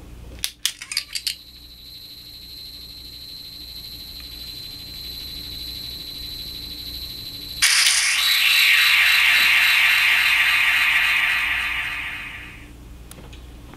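A Shin Ultraman Beta Capsule toy is switched on: a few sharp clicks, then a sustained electronic standby tone, followed by a brighter, louder shimmering transformation effect that fades out after several seconds.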